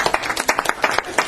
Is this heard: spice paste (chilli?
no